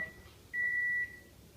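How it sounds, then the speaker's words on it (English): A kitchen timer goes off while potato dumplings cook, giving a faint steady tone followed by one brighter half-second beep in a quiet room. "looks like the timer's up"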